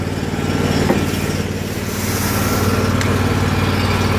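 The engine on a pressure washer trailer runs loud and steady near at hand, its rough drone holding at high RPM throughout with one brief knock partway through.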